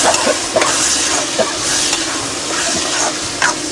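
Prawn masala in a village-style Chhattisgarhi cook roasting slowly over a low flame, with a steady broad sizzle broken by a few soft scraping stirs, close and fairly loud, no voices.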